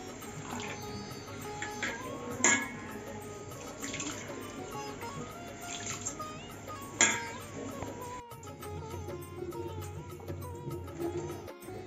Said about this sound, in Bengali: এখন গোবিন্দভোগ চালটাকে ধুয়ে নিচ্ছি